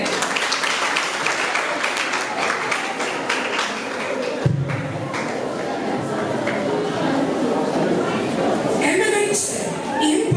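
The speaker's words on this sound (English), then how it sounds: "Please clap for her." An audience at a girls' senior high school debate claps for a speaker, a sustained rattle of many hands that continues throughout with some talk mixed in.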